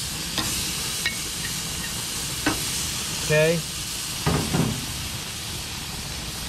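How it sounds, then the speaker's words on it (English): Steady, close sizzling hiss of cobia fish searing on a hot grill, with a few light clanks and scrapes and a brief spoken word. "Get that searing sound."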